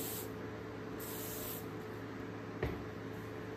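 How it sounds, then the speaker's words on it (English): WD-40 sprays onto hand tools and sockets in a workshop, a steady close hiss running throughout with one brief sharp tap partway through. "a buddy of mine told me a trick, use WD-40, so let's try that"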